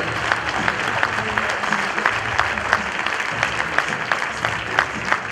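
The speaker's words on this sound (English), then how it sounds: "we can give one more round of applause for Dr. Chris Ended" Sustained round of applause from a church congregation at a Sunday service for a guest speaker, even and continuous with no voices standing out.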